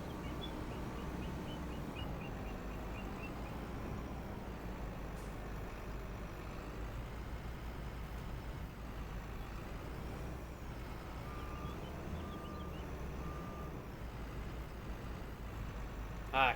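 A semi truck in a farming simulator game rumbles steadily with a low engine drone, joined by intermittent reversing beeps and a brief air-brake hiss, continuous and moderately loud with no talking.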